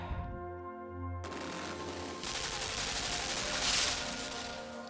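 Gunfire in the video game Limbo: a dense, rattling burst of shots rises over low background music and continues steadily, moderately loud and without pauses.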